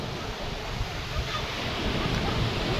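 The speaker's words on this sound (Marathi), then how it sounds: "असं समुद्राच्या ठिकाणी मुलांना घेऊन, तर त्यांच्यावर लक्ष ठेवा" Surf washing in at Murud beach, a steady broadband rush of breaking waves with some wind buffeting on the microphone, continuous and fairly loud throughout.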